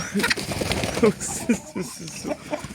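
Soft clucking and cooing of chickens close by, in short irregular bursts, with a low background hum, on a snowy winter morning.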